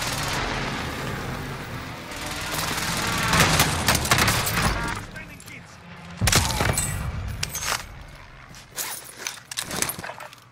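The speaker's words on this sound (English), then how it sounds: "Precision airstrike incoming." Precision airstrike explosions in Call of Duty Vanguard, a series of heavy booms and blasts rolling in bursts over a few seconds, fairly loud amid game ambience.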